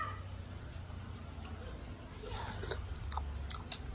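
Someone eats watermelon close to the mic, giving soft, moist bites and chewing crunches over a steady low background hum.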